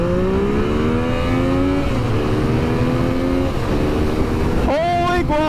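A 2016 Yamaha XSR 900 motorcycle pulling hard on a highway, engine tone climbing steadily through the revs, then a quick shift and another sharp rising surge, loud with strong wind rush.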